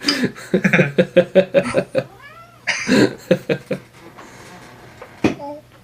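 A cat gives a couple of short, drawn-out meows, one in the middle and another near the end, amid choppy coughing, laughter and people talking close by indoors.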